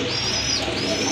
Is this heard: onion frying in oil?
no